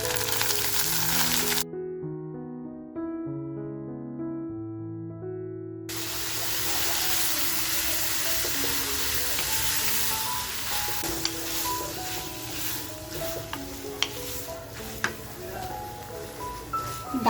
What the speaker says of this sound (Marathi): आपल्याला वजरी आहे ना फुल फ्लेमवरती फ्राय करून घ्यायची आहे